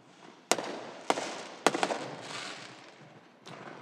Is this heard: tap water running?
no